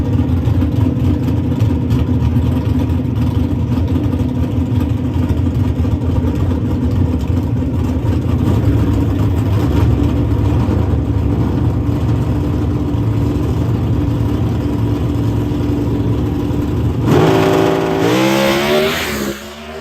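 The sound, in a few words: pro stock drag racing car launching down the track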